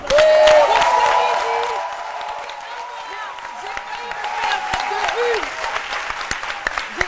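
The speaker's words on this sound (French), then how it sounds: "on va se lever pour faire un hurrah d'acclamation" A studio audience on a French midday show rises to applaud and cheer, with sustained clapping, scattered whoops and voices mixed in, loudest at the start and then holding steady.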